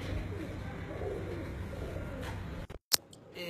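Pigeon cooing nearby, low soft coos rising over a steady hum of outdoor background noise, with a sharp brief click near the end.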